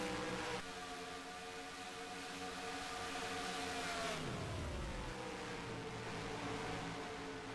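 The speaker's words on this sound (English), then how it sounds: "You hear the 19 shutting the engine off, too, on corner entry, so he's saving some fuel here." The number 19 race car at Atlanta Motor Speedway drones loudly and steadily, then the engine note drops sharply as it is shut off on corner entry, leaving a lower, fading hum under track noise.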